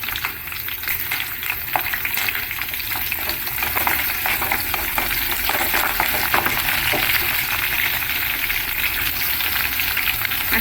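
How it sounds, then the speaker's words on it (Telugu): Green chillies frying in hot tempering oil for a small potato curry, giving a steady, close, crackling sizzle that runs unbroken and even throughout, with no talking. "నెక్స్ట్ వచ్చేసి పచ్చిమిర్చి వేసేస్తున్నాను అనమాట"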